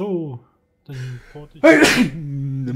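A single loud human sneeze, close and abrupt, breaking into a man's speech, with talking before and after it.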